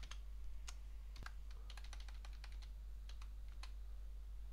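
A command typed on a computer keyboard while installing MongoDB on Debian 12: an irregular run of crisp, close key clicks over a low steady hum, with no voices.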